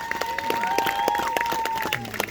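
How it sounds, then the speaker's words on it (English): Crowd applause and cheering for two knights after a jousting fight at Leeds Castle, Kent: scattered claps over a tonal whistle-like hum, fairly distant and brief, with some voices mixed in. "Give them both a huge cheer, folks."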